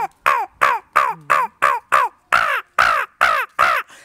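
A human voice imitates a crow, giving about eleven sharp, loud caws in a steady, evenly spaced series with short gaps between them.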